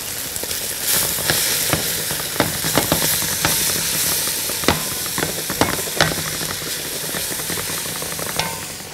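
Lamb shank searing in a hot pan, a steady loud sizzle with scattered sharp pops and crackles throughout, no voices.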